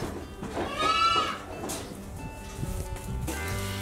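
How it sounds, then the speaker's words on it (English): Baby Nubian goats on a Texas family farm bleat in the chilly early morning, one loud wavering cry followed by fainter calls from others amid soft background farm noise. "baby Nubian goats calling out for their morning allotment of their mother's milk"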